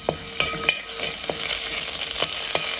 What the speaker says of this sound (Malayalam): കറിവേപ്പില ഇട്ട് നന്നായി ഫ്രൈ ചെയ്തെടുക്കാം